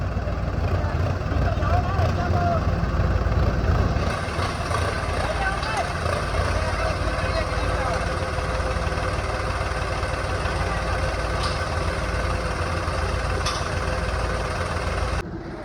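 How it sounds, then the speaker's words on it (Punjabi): A tractor engine idles steadily with a low rumbling drone throughout, close by and continuous, with faint voices in the background. "ਅੱਗੋਂ ਟਰੈਕਟਰ ਲਾਇਆ"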